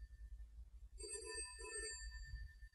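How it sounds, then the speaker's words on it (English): An old telephone bell rings in a quiet room, two distinct bursts of ringing with a short gap between them, moderately loud over low background rumble. "Answer the phone."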